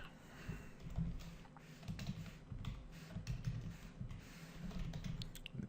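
Quiet, close typing of JavaScript code on a computer keyboard, an irregular stream of soft key taps and clicks in uneven bursts with no talking.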